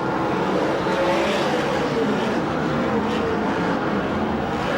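USAC/CRA sprint cars racing on the dirt oval at Perris, California, a dense, steady roar of several engines blended together from a distance, with a faint commentary voice over the top.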